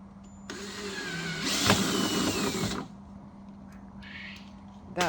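Power drill boring holes in a Land Rover Defender fender: a loud, close whirring burst of about two seconds over a steady low background hum, followed by quieter tool noises.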